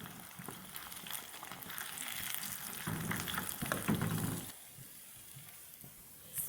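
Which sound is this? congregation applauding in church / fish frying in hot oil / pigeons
fish frying in hot oil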